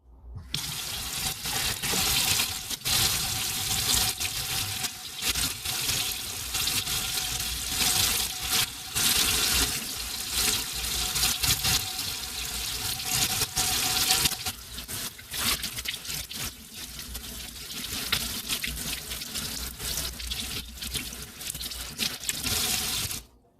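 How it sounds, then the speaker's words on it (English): Kitchen sink tap running full as hands are washed beneath it, a loud, continuous rush of water splashing into the basin, close by, with small shifts in the flow as the hands move. "So let me wash my hands."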